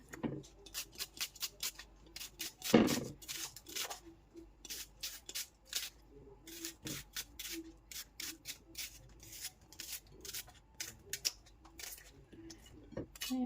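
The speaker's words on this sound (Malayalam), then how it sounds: "സവാളയൊക്കെ ഏകദേശം അരിഞ്ഞ് കഴിയാറായിട്ടുണ്ട്" Onions being chopped on a board in a kitchen: quick, crisp knife strikes in steady runs with short pauses, close and fairly quiet, one heavier thump partway through.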